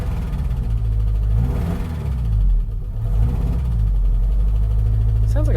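A 1988 MJ with a 2.5L engine that has timing issues idles with a misfire, giving a loud, close, low rumbling drone with uneven pulses and brief swells throughout.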